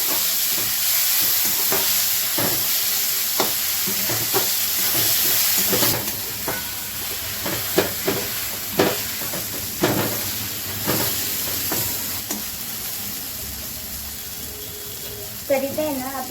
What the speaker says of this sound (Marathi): यानंतर आहे ना ह्याच्यात टोमॅटो घालून घ्यायचं आणि याला चांगलं परतून घ्यायचं.